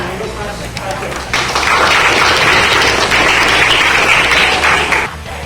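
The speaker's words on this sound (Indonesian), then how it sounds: "tepuk tangan untuk Mas Raja." A classroom of students claps for a few seconds, the burst rising suddenly, holding dense and loud, then cutting off, with a low hum and murmuring around it.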